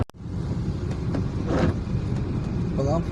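At night on a city road, a single oncoming vehicle passes a moving taxi, its swell rising briefly above the steady, close road rumble and wind noise inside the car.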